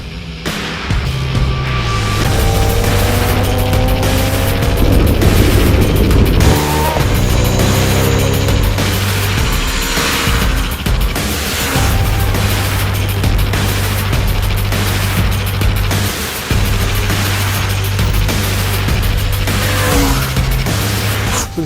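Bajaj Dominar 400 motorcycle ridden on the road, its loud engine droning steadily close by with rising and falling pitch through gear changes, wind rushing throughout, no voices.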